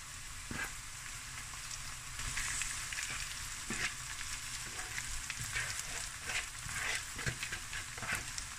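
Rice tipped into a sizzling pan and stirred, a steady frying hiss with scattered scraping and stirring clicks throughout, fairly quiet and close.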